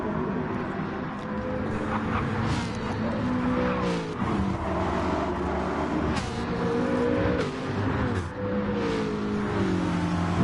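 Several race cars roar and whine through a PS4 racing game, engines revving and shifting continuously in a close pack, loud and steady with no voices over them.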